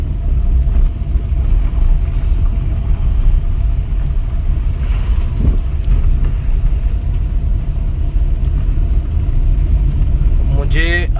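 A car rolls along a rough track on a self-drive jungle safari in Corbett National Park, Uttarakhand, giving a continuous low rumble of engine and tyres for about eleven seconds, with a brief rattle near the end.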